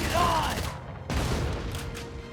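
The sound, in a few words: gunfire in Valkyria Chronicles 4 video game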